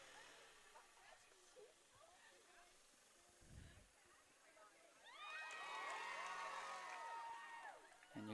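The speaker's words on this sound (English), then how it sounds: "And you can hear the Milton Mustangs cheering, getting ready to take the field." School girls' lacrosse crowd for the Milton Academy Mustangs cheering and whooping before taking the field, a distant murmur swelling into loud sustained shouts and cheers in the second half.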